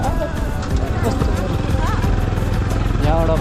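A motorcycle engine runs steadily through a ride on the Helambu highway, a continuous loud drone, with voices and other road noise mixed over it.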